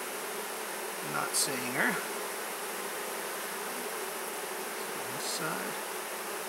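Honey bees buzz in a steady, close drone while a hive is inspected, with a few louder passing buzzes rising and falling; a person speaks briefly over the hum.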